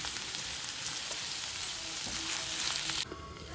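Brinjal frying in a pan with turmeric and salt, a steady, close hiss of sizzling that drops suddenly in brightness near the end, with no talking.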